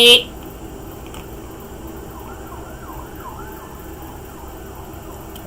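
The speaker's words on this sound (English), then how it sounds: "I hear sirens. I don't know if you hear it, but there are sirens outside" Faint, distant sirens outside waver under a low indoor hum, with a voice heard briefly at the start.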